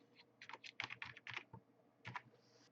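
Text typed on a computer keyboard in a Word exercise, a quick close run of crisp key clicks followed by a brief pause and a few more taps, alone without talk.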